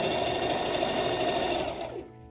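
Sewing machine stitching a Churn Dash quilt block, a continuous close whirring run that winds down and stops near the end, alone without talk.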